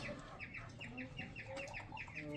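A hen clucks repeatedly in short, close calls, with other fowl faintly chattering in the background of a backyard coop.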